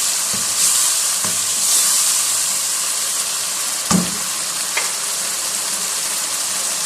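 Tomatoes sizzle over high heat in a pan of chicken jalfrezi, a loud, steady frying hiss broken by a few clinks and scrapes of stirring, with no voices.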